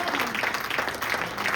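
Listeners applaud during a Hindi patriotic poetry recitation about Rani Lakshmibai and brave soldiers, giving a faint, steady wash of many hands clapping that lasts the whole short stretch at a distance.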